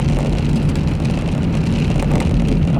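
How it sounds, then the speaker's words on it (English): Steady rain falls beside a lake on a peninsula park, a dense continuous patter heard from inside a car, close and fairly loud with no voices. "So it started raining."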